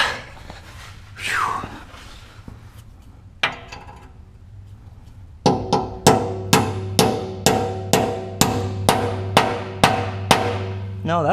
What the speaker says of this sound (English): I might be able to hammer this one in there and make it work